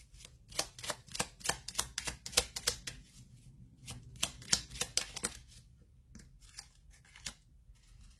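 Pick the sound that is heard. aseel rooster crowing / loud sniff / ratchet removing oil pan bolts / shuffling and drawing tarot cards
shuffling and drawing tarot cards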